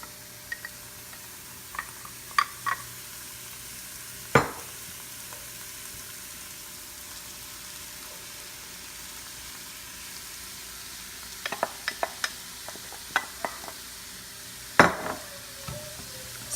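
Minced carrots and garlic sauté in a pan under a soft, even hiss, broken by scattered sharp clicks and taps of a utensil against the pan, close by with no talking.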